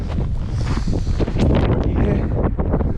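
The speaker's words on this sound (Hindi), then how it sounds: "अभी हवा जौन बा उ पश्चिम से पूरब के तरफ बहता और बहुत तेज हवा बा।" Strong wind blows hard during a snowfall in America, buffeting the microphone with loud, gusty rumbling and rustling that swells and eases continuously, with no talking.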